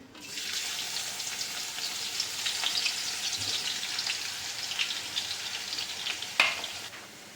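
Crushed garlic and curry leaves hit hot oil for a Konkani-style vegetable dish, giving a loud, continuous sizzle with scattered crackles and one sharp spit near the end.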